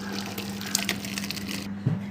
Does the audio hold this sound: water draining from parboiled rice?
yes